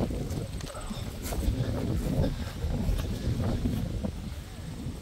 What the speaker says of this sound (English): Careful when it's windy.